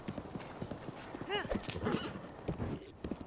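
A horse's hooves clip-clop along a road in Zelda: Breath of the Wild, a steady rhythmic trotting with a brief neigh partway through, heard faintly under soft talking.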